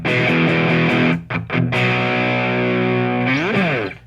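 An electric guitar plays loud, sustained distorted chords through a Pocket Pussy Melter mini metal pedal with low end and sizzle turned down, ringing out with brief choppy breaks and a bending slide near the end.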